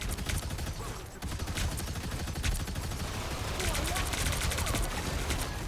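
Dense rapid gunfire from the video game Marvel Rivals rattles almost continuously, loud and busy, with a brief dip near the start.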